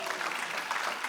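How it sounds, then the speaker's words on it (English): An audience at Menlo College claps for the staff in dense, continuous applause that holds steady from start to finish, and a voice may be faintly present within it. "How about a big round of applause also for the great staff here at Menlo College."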